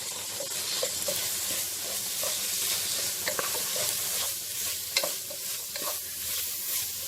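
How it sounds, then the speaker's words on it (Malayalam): Garam masala sautéing in a hot pan, a steady close sizzle and frying hiss with repeated scraping stirs of a utensil against the pan running throughout. "ഗരം മസാലയും ചേർത്ത് നന്നായി വഴറ്റുക"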